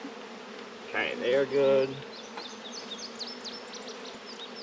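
Honey bees hum faintly and steadily around a swarmy nuc hive, a low continuous drone that runs through the whole moment while a person speaks briefly near the start.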